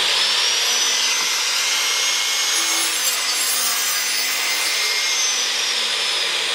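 A hand saw rasps through a wooden scaffold board in a steady, continuous cutting stroke, close and loud, with no voices.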